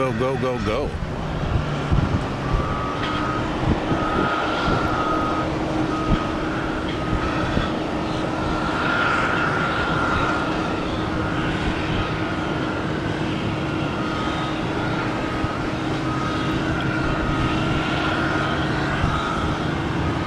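An airliner departs Tampa airport on the 6:41 flight to Windsor Locks, Connecticut, a loud, steady jet roar that fills the whole stretch without easing, with people talking faintly beneath it.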